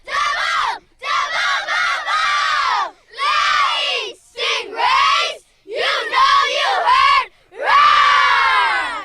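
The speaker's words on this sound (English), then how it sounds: "Give us a big cheer, girls." A girls' soccer team at the 2005 San Diego Surf Cup gives a loud group cheer, several high-pitched chanted shouts in bursts with brief pauses between them, close and dominant.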